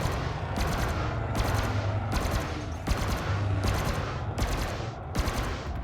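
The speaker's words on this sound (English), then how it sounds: "Those 4 medium burst lasers still do a good number on the hull." Medium burst lasers firing from a Fer-de-Lance ship in the space game Elite: Dangerous: seven evenly spaced, loud, close bursts of rapid pulses over a steady engine drone, with no talking.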